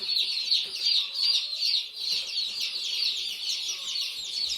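A crowd of day-old chicks on a farm cheeps nonstop, a shrill overlapping chorus of high peeps that swells and dips close by with no talking.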